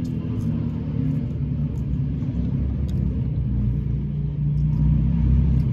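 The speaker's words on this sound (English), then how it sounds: "I'm sitting close to a busy street." Traffic on a busy street close by gives a constant low rumble of passing cars, steady and unbroken throughout, with no clear individual vehicles standing out.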